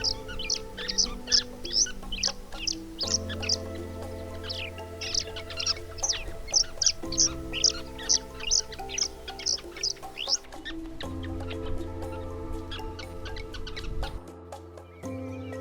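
Dense chorus of bird calls and chirps across green Kgalagadi grassland, many repeated tweets in quick bursts from a large flock, moderately near, over a steady low hum.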